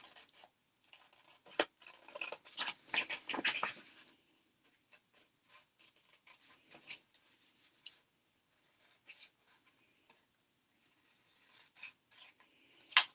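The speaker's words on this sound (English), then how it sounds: "right now, I have my scissors here. This is an easy one to fussy cut." Scissors fussy-cut a small piece of paper card at close range: soft, irregular snips and papery rustles come in bursts, busiest early and then sparser with pauses.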